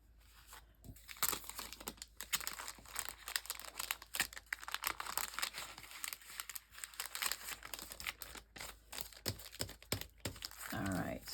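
Plastic packaging crinkles and rustles at close range in quiet, irregular bursts as paper craft ephemera pieces are slipped back inside, with faint handling clicks.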